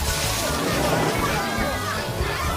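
Water pouring and splashing down onto students in a classroom, a steady loud rushing slosh that fills the whole stretch without pause.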